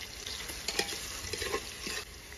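Onion, bay leaf, cloves, cardamom, cumin, garlic and ginger fry in hot oil in a home kitchen for pulao, making a steady close sizzle broken by soft scraping stirs, with no voices.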